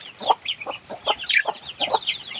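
A mother hen clucks in short, repeated bursts as she is put into the coop, close and fairly loud, with a quick uneven rhythm of about a dozen clucks and no talk.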